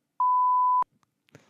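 A single sharp censor bleep, a steady pure tone that holds for about half a second, followed by brief faint sounds.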